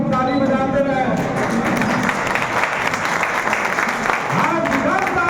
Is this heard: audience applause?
yes